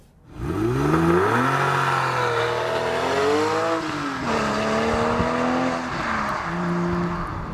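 A 2013 Porsche 911 Carrera 4S engine revs up loudly and holds a high, sweeping drone, pitch rising and falling through changes of its 7-speed manual gearbox, close and with no speech.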